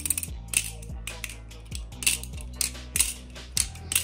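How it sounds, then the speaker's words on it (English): A balisong butterfly knife trainer flipped by hand gives a run of light metallic clicks and soft clacks at a steady, irregular rhythm, close and fairly quiet, with no voices. "Flipping a goddamn BB barfly. Like, flipping some shit like this."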